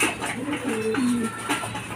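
Racing pigeons cooing in a loft, a few low soft coos in quick succession, close by over a busy background hum.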